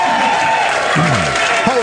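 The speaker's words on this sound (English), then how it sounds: "They're cheering." A live studio audience at a radio show after-party cheers and applauds in a continuous, loud wash of claps and whoops, with people talking over it nearby.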